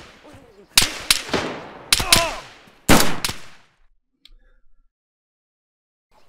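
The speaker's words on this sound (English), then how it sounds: "I'm getting shot and I can't move." Gunfire in DayZ as the player is being hit: about seven sharp, loud shots in irregular bursts with trailing echoes over roughly two and a half seconds, then near silence with faint small clicks.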